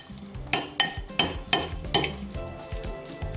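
Crab meat filling with brandy, cream, cheese and celery is stirred in a bowl, a string of rhythmic clinking scrapes of a utensil against the dish, loud and close, easing off toward the end.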